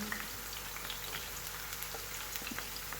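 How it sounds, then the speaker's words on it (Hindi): Chopped garlic and ginger sizzle gently in oil over low heat, a faint, steady crackle with scattered tiny pops and nothing else in the background. "इसके बाद अब हम इसमें चॉप किया हुआ लहसुन और अदरक डाल देंगे।"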